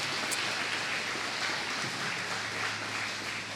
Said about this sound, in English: Kate, give her a round of applause.